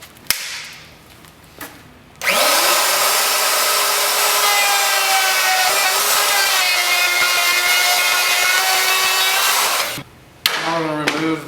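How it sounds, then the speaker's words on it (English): A router trims leftover wood core and a sliver of solid surface material from a countertop edge cap, a loud, steady high-pitched whine with cutting noise lasting several seconds before cutting off. "we're going to adjust our router down so we remove the remainder of the excess wood core, as well as a minuscule amount of the solid surface material itself"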